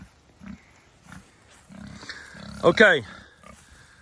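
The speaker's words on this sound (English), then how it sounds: "let's go see those pigs and see exactly how they're cleaning up the woods" Young pigs around six or seven months old grunting in woodland near a pig tractor, short low grunts scattered through, with a louder squealing call near the end while a person speaks briefly.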